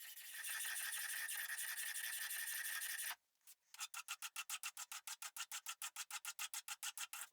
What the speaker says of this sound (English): marked this distance on the top of the brass and sawed the resulting angle